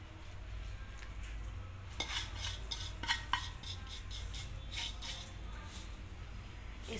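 Salt spread and stirred around in a pan on the stove while preparing an oven-free veg pizza, giving soft continuous scraping and gritty rustling with a few sharper clinks of utensil on metal, close and fairly quiet, with no talk.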